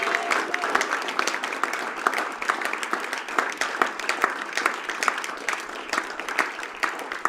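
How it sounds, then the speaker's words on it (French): A church congregation at a French-language service applauds loudly, a steady dense wash of clapping with cheers and voices mixed in that keeps going the whole time. "acclamez très très fort le Seigneur"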